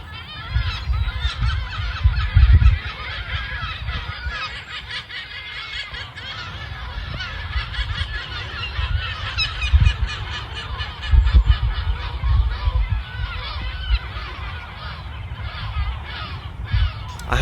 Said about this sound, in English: this is what they have sounded like down this road before in Hertfordshire